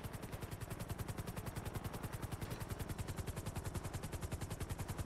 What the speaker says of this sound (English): Okay, I hear gunfire.